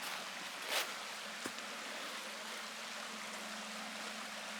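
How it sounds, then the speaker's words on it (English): A creek runs down through a narrow wooded valley along a mountain trail, a faint, even rush of flowing water with a couple of brief soft knocks and no voices. "the creek's running down through here"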